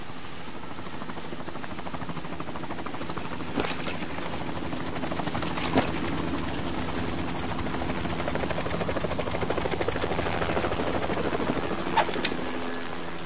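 Helicopter rotor drone from Metal Gear Solid 2, a steady continuous whir holding at even loudness with a few faint sharp clicks over it.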